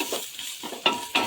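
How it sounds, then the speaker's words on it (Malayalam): A pan sauté for Palakkad-style chicken curry, two quick spoon scrapes with sharp metallic clinks over a soft, close sizzle. "ഗോൾഡൻ ബ്രൗൺ കളറാവുന്നത് വരെ ഒന്ന് വഴറ്റിയെടുക്കണം."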